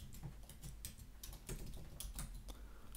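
Typing on a computer keyboard, a steady run of light, quick clicks over about three seconds, very faint and close, with no voices.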